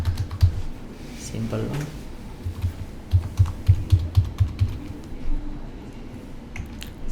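Keystrokes on a computer keyboard as a username and password are entered, a quick burst of soft clicks in a steady run mid-clip, with someone speaking briefly at the start.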